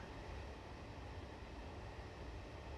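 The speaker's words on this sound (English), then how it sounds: "you occasionally get a little grinding sound there" An IZA freight wagon in Train Simulator Classic gives off a continuous, dense grinding rumble, steady and moderately loud throughout, with no voices.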